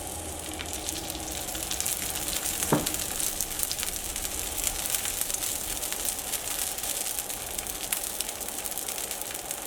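Thin batter for an instant variety dosa cooking on a hot dosa griddle with oil poured around the edges, a steady soft crackling sizzle throughout with one brief sharp tap, no talking.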